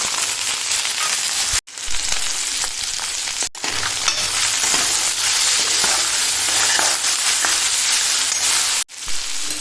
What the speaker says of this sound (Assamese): আৰু এই মাছখিনি একেলগে ভাজিম।